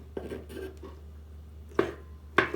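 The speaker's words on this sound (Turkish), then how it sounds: "Şimdi domatesleri hemen dilimlemeye başlıyorum doğramaya." A few sharp knife strikes on a cutting board as tomatoes are chopped, sparse and spaced apart, close by in a quiet kitchen.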